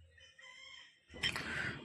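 A colourful two-year-old rooster weighing 3.5 kg at the Feko Haat livestock market in Jhargram, West Bengal, gives a loud, harsh call that bursts in partway through after quieter background sounds.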